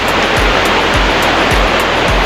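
Loud, steady rush of flowing river water, close by, with faint low thumps recurring at a regular pace underneath.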